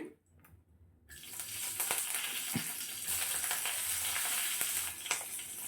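Three green chillies fry with asafoetida in hot oil, a loud, steady sizzle that bursts in after a brief quiet opening and carries on with scattered pops and stirring clatter, no voices.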